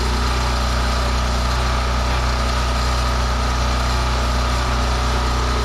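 A small snowblower engine runs steadily at half choke while warming up, a loud, constant close-up drone with no pauses and no voices.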